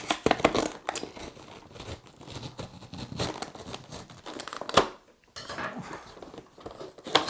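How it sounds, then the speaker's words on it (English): Close crinkling and tearing of packaging, with plastic rustles and scrapes in irregular bursts and a brief pause near the end. "I didn't want to unwrap the boxes"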